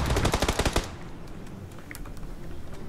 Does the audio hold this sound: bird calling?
no